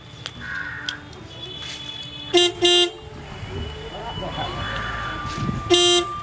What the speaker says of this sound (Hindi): हौरन के आवाज आबि रहल छै गाड़ी जाते छै